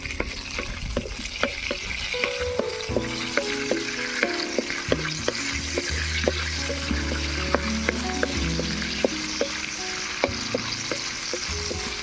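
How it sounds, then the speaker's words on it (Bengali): Cashews and raisins frying in white oil, a continuous close sizzle with scattered crisp pops and scraping stirring clicks, plus faint tonal background sounds. "কাজু কিশমিশটা হালকা করে ভেজে নেব"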